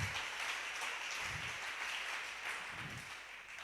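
Church congregation applauding the Lord: steady, dense clapping from a crowd of many hands, moderately loud and even throughout with slight swells.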